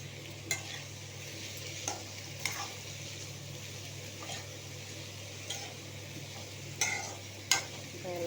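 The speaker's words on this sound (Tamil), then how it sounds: "இப்போ எல்லாத்தையும் போட்டு வதக்கலாம்." Potato and capsicum sautéing in a pan, a steady low sizzle broken by several sharp scraping stirs of a spatula against the metal, close and alone with no talk.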